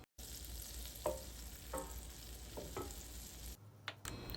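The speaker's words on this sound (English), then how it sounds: "In a separate pan, melt your butter over medium heat." Butter melts in a pan over medium heat, giving a soft, low sizzle with a few scattered pops and faint stirring scrapes, with a brief clatter near the end.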